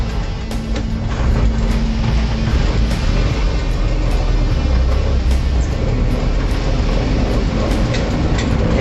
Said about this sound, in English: Going for a ride in that Chevy Apache PANNEL with everybody from YouTube.